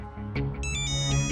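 Phone ringtone signalling an incoming video call from dad, a bright melodic electronic tune with repeating tonal notes, heard clearly at moderate level indoors.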